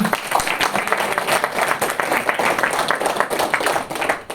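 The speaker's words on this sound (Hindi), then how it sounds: "तो योकोविच के लिए जोरदार तालियां तो होनी चाहिए।" Loud, steady applause from an audience for Novak Djokovic, many hands clapping densely and continuously close by, tapering off near the end.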